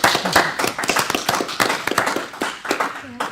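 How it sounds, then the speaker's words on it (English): A small audience claps for the ambassadors at the close of a local event, with sharp, uneven hand claps running steadily for a few seconds, close and fairly loud. "Can we just have a big clap for all the ambassadors and all the support?"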